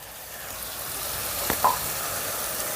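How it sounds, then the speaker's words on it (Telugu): Tamarind pulp goes into a sizzling pan for a spinach dal, giving a steady soft hiss with a short sharp spatter and clatter midway, close and without voices. "ఈ చింతపండు గుజ్జును కూడా వేసుకుందాం"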